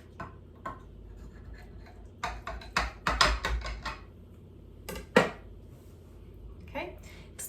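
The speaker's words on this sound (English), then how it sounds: "so it might be a little bit hard to cut it. Make sure you have a very sharp knife." A sharp knife cutting through a baked aubergine lasagne, with a cluster of close taps and scrapes against the dish, then a louder knock and a few lighter strokes, all with no talking.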